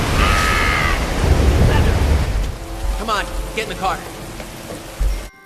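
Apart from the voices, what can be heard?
storm with heavy rain and thunder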